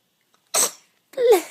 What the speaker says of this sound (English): You gonna sneeze?